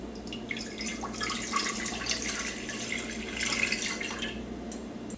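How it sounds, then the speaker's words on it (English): Water runs steadily from a tap into a pot, splashing and pouring with a continuous, moderately quiet rush. "we're gonna start off by adding water to our pot"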